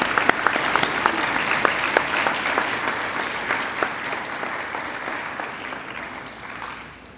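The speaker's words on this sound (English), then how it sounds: "Please give all these recipients your warm round of applause." Warm audience applause for Seal of Biliteracy award recipients at a Har-Ber High School ceremony, steady rapid clapping from many hands in a room, fading gradually toward the end.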